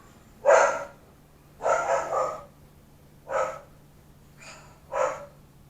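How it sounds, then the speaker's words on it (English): A dog barks five times at a plane passing overhead, with pauses between, single and double woofs, fairly close in an otherwise quiet room with a low hum. "Now she's barking at a plane going overhead."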